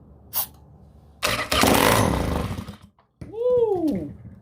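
A Honda Spree scooter, primed with starter fluid and running with no exhaust, cranks and then catches, roaring loud and raw for over a second before cutting out. A rising, wavering rev follows, with a voice whooping over it.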